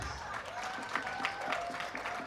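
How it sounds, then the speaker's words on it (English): Brief, faint round of audience applause at a professional installation ceremony, a soft patter of many hands heard at a distance. "Members, can we really give the DG a real round of applause?"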